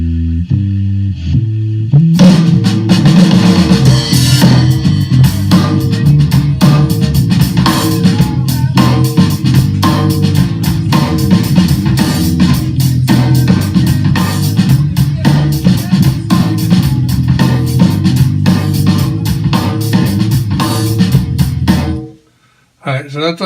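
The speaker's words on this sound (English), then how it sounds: "I believe this is the main bass track that was recorded at the same time as the drums" A main bass guitar track recorded live alongside the drums plays a loud, continuous groove for about twenty seconds, dense and steady, then stops abruptly near the end.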